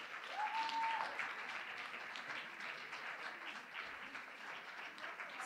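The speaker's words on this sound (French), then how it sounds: "vraiment, vraiment applaudir toutes nos monitrices" An audience at a Christmas sweater evening applauds the children's monitors, a sustained, moderately distant wash of many hands clapping that holds steady throughout, with a brief whistle near the start.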